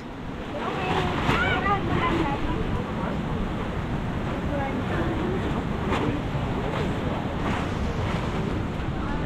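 Strong sea waves and gusting wind on a coast, a continuous loud roar of surf and wind noise on the microphone, with voices speaking faintly underneath.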